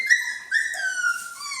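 Three-week-old Norwegian Elkhound puppies give high, thin whimpers and squeals, two or three drawn-out cries in quick succession, close and clear with nothing else behind them.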